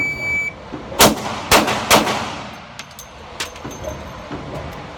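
Handgun shots at target practice, several sharp cracks in quick succession, followed by fainter clicks and handling noise, no talking.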